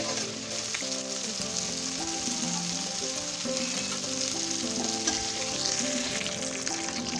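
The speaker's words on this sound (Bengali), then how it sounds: "মাছগুলা ভেজে নিব একটু" Small fish frying in hot oil, giving a loud, continuous crackling sizzle that holds steady throughout, with no voices.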